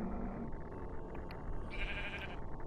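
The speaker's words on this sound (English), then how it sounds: "Oh, sheep. Sheepy?" A sheep in the video game Minecraft gives a couple of short, nasal bleats, one at the start and another near the end, against a quiet background.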